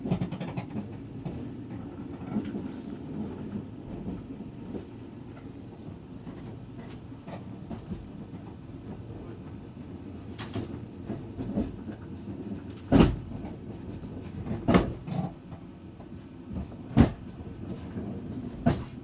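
A Talgo train pulls out of Karakanda station and runs on, heard from inside an AC chair car: a steady low rolling rumble with a few sharp clunks and rattles near the end, and no voices.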